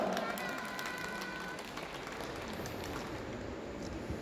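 Audience applause at an award and appointment-letter ceremony: steady, moderately quiet clapping from a small gathered group, continuous under ambient room noise with a faint voice in places.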